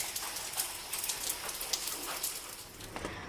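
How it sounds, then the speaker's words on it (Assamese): Light rain patters steadily on a surface, a soft continuous hiss with scattered drips, fairly quiet and close, with no voices. "বৰষুণ এৰিছে অকণ অকণকৈ আৰু তথাপিতো খেচিক খাচাককৈ পৰিয়ে আছে"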